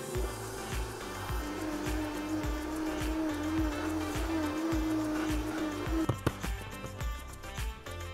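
A blender or mixer runs steadily on high speed whipping golden sugar with salt, a loud continuous motor whir with a tonal whine, ending in a few knocks and rattles.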